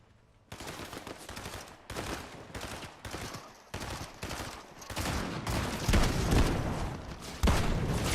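Shotgun fire in a video game, a fast series of loud, dense blasts broken by brief gaps, with no talking over it.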